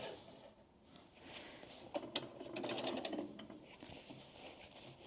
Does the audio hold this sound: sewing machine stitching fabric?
yes